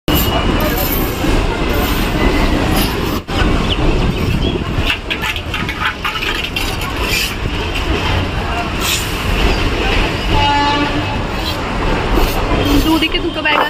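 A metro train at Dum Dum station in Kolkata runs close by with a loud continuous rolling rumble and clatter, and a brief whining squeal of wheels near the end, as voices murmur in the background.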